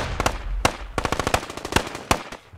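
Bursts of automatic gunfire in a game firefight defending a forward operating base, loud and close, with rapid clustered shots and a few sharp single cracks over about two and a half seconds, no talking.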